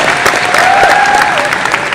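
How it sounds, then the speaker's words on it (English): Brief burst of audience applause at a WonderCon premiere panel, a crowd clapping loudly and densely for a couple of seconds with some faint voices mixed in. "let's give a round of applause for Warner Brothers Home Entertainment"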